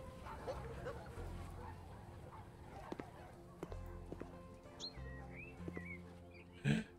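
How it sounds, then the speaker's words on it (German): In House Flipper, a small dog barks and yips in short scattered bursts over low background music, with light chirps and a brief louder bark near the end. "Da ist ein Hund zurückgeblieben."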